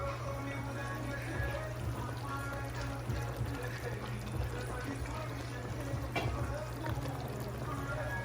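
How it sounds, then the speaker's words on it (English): Water pours steadily into a pot of seasoned fish and okra, a soft continuous trickle and splash heard close up, with a low background hum. "then you add a little water with that seasoning that comes out of the same pot"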